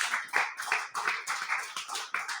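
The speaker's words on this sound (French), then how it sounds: "Applaudis pour le Seigneur." A church congregation applauding, rhythmic bursts of many hands clapping in a steady, lively beat, fairly close and without talk.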